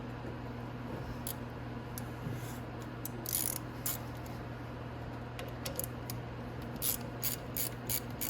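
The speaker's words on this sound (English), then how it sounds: "we're going to take these 8mm bolts off right here. Easy to do that with a socket." A socket wrench ratchets off 8mm bolts on a 125cc Venom Mini Jeep during a Mikuni VM22 carburetor swap, with short clicking bursts over a steady low hum, close and fairly faint.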